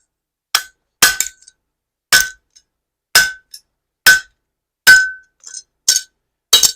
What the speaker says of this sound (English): I'm going to go ahead and heat the whole thing up and drift some more.